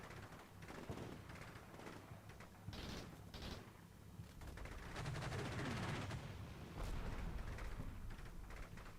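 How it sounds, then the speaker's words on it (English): Distant battlefield rumble from the war game Combat Mission: Shock Force 2, with muffled blasts and scattered gunfire rolling under a steady low din, one heavier thud standing out near the end. "That mortar round looked like it landed right on top of that building."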